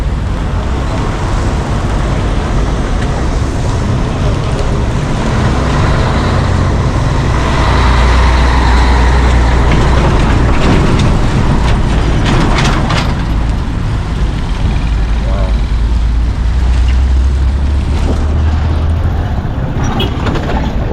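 Vehicles pass along a temporary road beside the Bombolulu flyover construction in Mombasa, a loud continuous rumble of engines and tyres with heavier trucks or buses swelling by midway, no talk.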